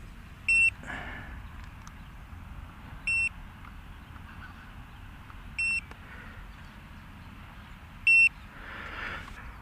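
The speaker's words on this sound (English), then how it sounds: "my radio is giving me the low receiver battery alarm" Low receiver battery alarm on an RC radio transmitter for an Eachine E190S FPV helicopter, four short electronic beeps evenly spaced about two and a half seconds apart over a soft outdoor hiss.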